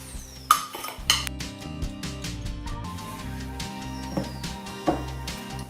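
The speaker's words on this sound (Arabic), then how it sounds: "كنخدموا السكر مع الزبده" Butter and sugar creamed by hand in a mixing bowl for an Irish lemon cake, giving scattered utensil clinks and scrapes against the bowl over steady background music.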